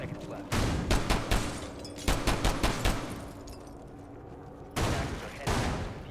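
Rapid bursts of automatic gunfire from a Rainbow Six Siege esports match, several sharp volleys in quick succession, a lull, then two more loud bursts, with faint voices in the background.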